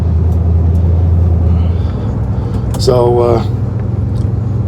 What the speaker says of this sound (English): Boy, that 455 really wants to go.